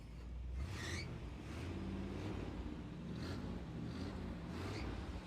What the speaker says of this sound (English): can you rev the engine for me?